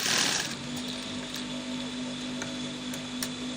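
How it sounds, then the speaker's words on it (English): A sewing machine top stitching the folded half-inch hem of cotton joggers runs in a steady, continuous mechanical whir with a faint rhythmic ticking, close and alone with no voices. "So now top stitch at this point"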